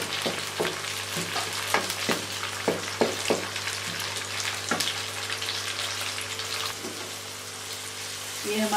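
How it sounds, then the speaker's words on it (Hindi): Tomatoes and green chillies fry in a pan with a steady sizzle, punctuated by sharp clinks and scrapes of a spoon stirring, close and moderately loud, with no talking. "अब हम इसमें टमाटर को अच्छी तरह फ्राई करेंगे"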